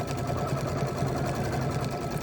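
A Brother Luminaire sewing machine runs steadily while stitching a quilt block, its fast even needle rhythm holding a continuous mechanical hum close up with no talk.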